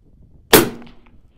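A single sharp 6.5 Creedmoor rifle shot at a long-range shooting session targeting 1032 yards: one loud crack followed by a short fading ring.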